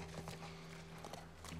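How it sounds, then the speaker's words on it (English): Horse hooves clip-clop in the video game The Last of Us, a quiet, close walking rhythm over a low steady hum. "Can I get off the horse?"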